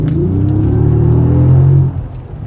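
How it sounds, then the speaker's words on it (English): A Bentley engine under throttle gives a loud, close, steady low rumble that rises slightly in pitch, then drops off near the end. "all this powertrain sitting there waiting for you to press that throttle."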